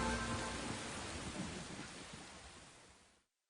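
Rain with thunder in a storm, a dense steady roar of falling rain and rumbling that holds evenly, then fades away abruptly into silence.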